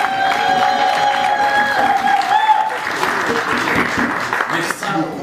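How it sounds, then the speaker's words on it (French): Audience applause with some cheering at a Brussels press event for a concert announcement, honoring the president of the Brussels Assembly; dense, sustained clapping from a crowd with sustained tones and voices mixed in throughout. "que je vous demande d'applaudir"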